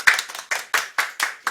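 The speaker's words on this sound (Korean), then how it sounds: "박수!" A small group claps in steady rhythm, about six sharp bursts of hand claps spaced roughly a quarter second apart, close and fairly loud, welcoming a guest on a Korean real estate talk show, with no talk over it.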